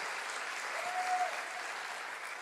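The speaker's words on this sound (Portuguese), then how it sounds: "Uma salva de palmas para Jesus" Steady applause rises from a church congregation, a broad even patter of many hands heard from some distance, fairly soft and continuous.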